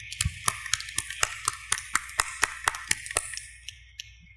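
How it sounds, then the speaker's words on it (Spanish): Sparse applause at an international arbitration conference: a handful of distinct, crisp claps in an irregular rhythm that thins out and stops, fairly faint over a low hum. "le ruego despedir con un fuerte aplauso a los expositores por sus excelentes exposiciones."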